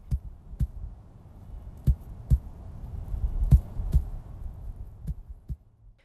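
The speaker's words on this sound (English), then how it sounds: "suddenly heard a heartbeat start up below his feet." A heartbeat effect in a fantasy audio story pulses from beneath the ground, a muffled, deep thump repeating roughly every half second to second over a low rumbling bed, with no voices.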